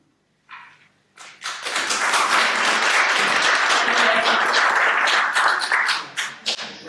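Audience applauding a presenter at an FASD prevention session, starting with a few sparse claps and quickly swelling into sustained, dense, fairly close applause that begins to break up into separate claps near the end.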